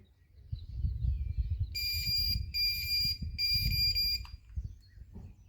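A high-pitched electronic bite alarm on a fishing rod beeps in three bursts over a low rumbling background of wind or handling noise.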